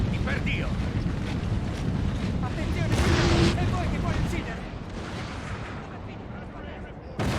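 Cannon fire from a Napoleonic battle in Napoleon: Total War, with several heavy booms over a constant rumbling din that swells near the middle before easing off.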